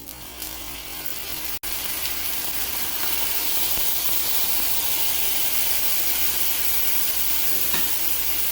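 Water heating toward a boil in a pot on a stove, a steady broad hiss and faint bubbling that holds constant and grows slightly stronger, close and without speech.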